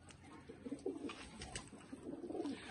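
Young Teddy and Dobaz pigeons from a pigeon seller in Faisalabad coo softly in short, repeated throaty bursts, close by and fairly quiet, with faint rustling between the calls.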